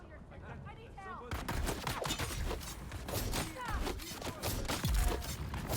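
Shotgun fire in the video game Dune Awakening, a dense run of sharp blasts and crackling impacts over constant busy game noise, loud and near throughout.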